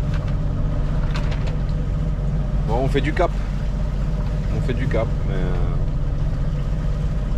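A sailboat motors under engine power during a flotilla crossing from Ajaccio to the Lérins Islands, its steady low engine drone running continuously beneath close conversation.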